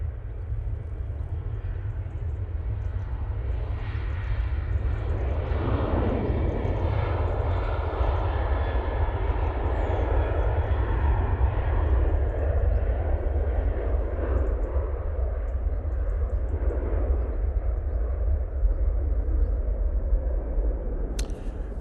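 Airliner departing Manchester Airport, a broad roaring jet engine rumble heard from a distance, sustained and steady with shifting tones over about twenty seconds.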